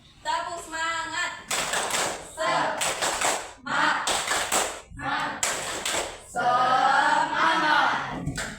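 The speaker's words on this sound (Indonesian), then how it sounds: "kita sekarang tepuk semangat dulu ya, biar lebih semangat belajarnya" A classroom of children performs a rhythmic clapping chant, bursts of hand claps in short patterned groups alternating with brief pauses and young voices, loud and close.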